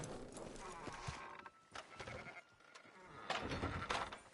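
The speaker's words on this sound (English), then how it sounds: "Fine sheep." Sheep bleat faintly amid busy background sounds in the video game Red Dead Redemption, with hooves clattering and voices murmuring under the scene.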